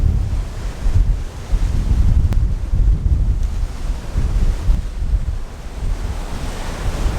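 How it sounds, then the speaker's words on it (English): Strong wind and crashing ocean waves roar continuously on the open deck of a Royal Caribbean cruise ship at sea, loud and unbroken with buffeting wind noise and no voices. "The sound and wind were staggering at times."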